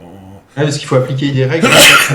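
A person sneezes once, a sudden loud burst near the end, during a French podcast conversation. Close-miked talk runs just before it.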